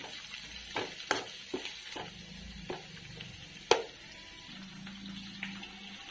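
Garlic, coconut, ginger and coriander sautéing in plenty of oil, a quiet sizzle broken by several sharp spoon clacks and stirring knocks against the pan, close and without speech.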